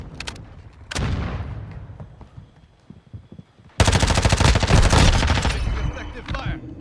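Gunfire in Call of Duty Modern Warfare II: a sharp shot, then scattered crackling, then a loud sustained burst of automatic fire with dense rapid shots, close and intense.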